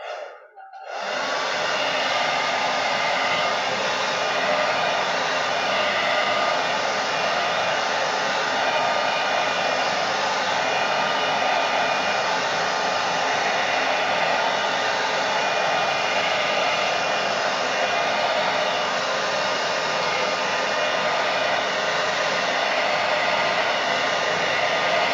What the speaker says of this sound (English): If you haven't got a hairdryer, just wait for it to thoroughly dry before you finish it.